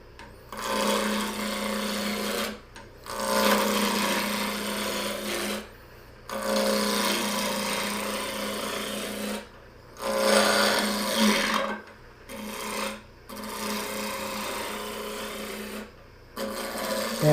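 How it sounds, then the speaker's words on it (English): A wood lathe spinning at about 1800 rpm as a turning tool cuts the spinning workpiece, with a steady close rasping scrape in long passes broken by brief pauses. "The lathe speed is about 1800."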